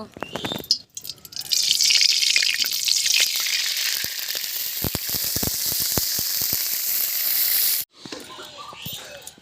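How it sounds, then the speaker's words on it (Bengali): Mustard oil in a hot wok sizzles in a loud, steady hiss that begins after a few light clinks, runs for several seconds and then cuts off abruptly, followed by quieter kitchen sounds. "কড়াই গরম হয়ে গিয়েছে, এবার তেল দেব।"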